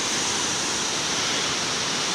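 Waterfall on Eagle Creek Trail in Oregon, a steady, loud, broadband rush of falling water that fills the whole clip with no pauses.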